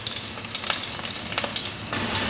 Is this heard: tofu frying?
yes